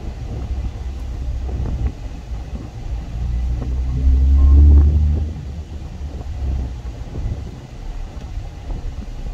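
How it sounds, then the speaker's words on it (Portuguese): Everyday traffic passes along an avenue in Itapema, a low rumble of cars that swells as one heavier vehicle goes close by midway, then settles back to a steady background drone. "Esse fluxo de trânsito aqui"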